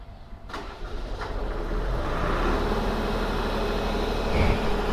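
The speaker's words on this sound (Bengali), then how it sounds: "ওই যে যাচ্ছে এখন জেনারেটর চালু করতে" A generator is started during a power cut, and its engine turns over after a few sharp clicks, then rises to a steady, loud running drone nearby, with no talking.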